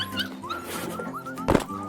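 A beagle gives a single short, loud bark near the end, set against a busy background of chirps and a steady low hum, with faint whimpering yips earlier.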